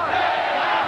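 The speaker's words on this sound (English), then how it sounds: "And the crowd takes up the chant." A boxing arena crowd at an Azumah Nelson vs Jesse James Leija bout roars in a dense, continuous chant, loud and filling the space.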